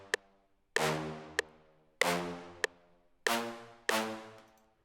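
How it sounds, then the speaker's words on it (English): Orchestral hit stabs in a chill siren jam remix, bright brassy chord hits with decaying tails repeating in a steady pattern alongside sharp short clicks, loud and close with no voices. "I move on to the orchestral hits or the stabs"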